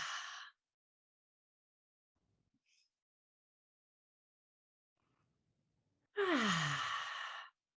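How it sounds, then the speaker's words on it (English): Two slow, deep breaths in a quiet room, one long exhale at the start and another fuller inhale and sighing exhale near the end, close and soft with near silence between them. "Let's take a few deep breaths."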